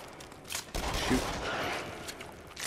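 Gunfire in the VR horror shooter Until Dawn: Rush of Blood, a burst of close shots starting just under a second in and rattling on through the rest, with brief muttering over it.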